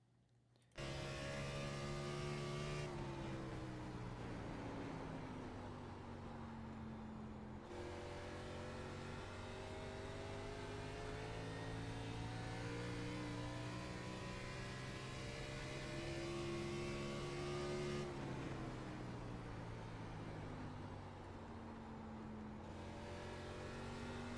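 NASCAR Xfinity car lapping New Hampshire in iRacing, its engine drone steady and loud throughout, pitch sliding down and back up through the corners over a long uninterrupted lap, with no talking.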